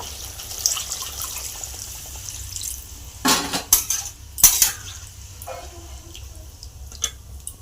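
Water is poured over lightly fried potatoes in a cooking pan, with a few splashy clatters and pan knocks in the middle over a faint steady kitchen hiss.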